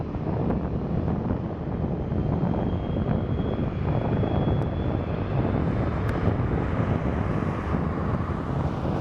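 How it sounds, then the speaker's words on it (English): A private jet roars down the runway and climbs away at Portland airport, a steady loud engine rush mixed with wind buffeting the microphone throughout, with no talk. "here goes the private jet"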